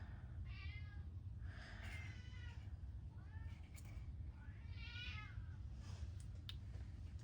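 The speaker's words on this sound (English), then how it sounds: "Sorry if you hear my cat meowing in the background" A pet cat named Mr. Meeseeks meows several times over a steady low background hum, each cry drawn out and fairly close.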